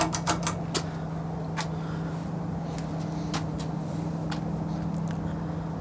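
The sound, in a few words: Fanimation Belleria ceiling fan running on low speed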